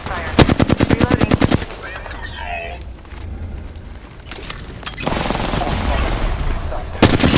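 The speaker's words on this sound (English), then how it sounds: "Opening fire." Automatic weapon fire in Apex Legends comes in a fast, loud burst of evenly spaced shots, then a quieter stretch with reload clicks and movement, before another long spray of gunfire and a final sharp shot.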